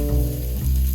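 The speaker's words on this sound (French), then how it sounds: "je vais faire saisir mes pavés de thon 30 secondes de chaque côté" Tuna steaks sear in a hot oiled pan with a loud, steady sizzle close up for a brief moment.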